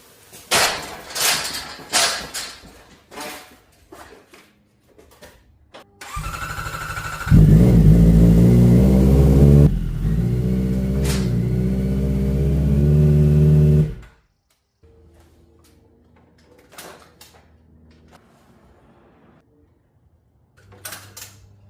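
A Cadillac Escalade pulling a Kendon trailer outside: the SUV's engine starts with a burst and then holds a loud, steady hum for several seconds before cutting off abruptly, followed by quieter clunks and knocks.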